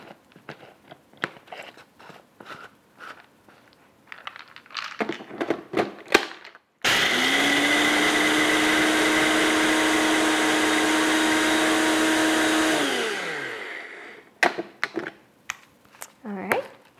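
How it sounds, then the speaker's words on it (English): An appliance crushes cookies into crumbs for a chocolate cheesecake base, a loud steady whirring grind that runs for about six seconds, then winds down in pitch and stops, with talk before and after. "now I'm going to destroy these cookies until they become crumbs"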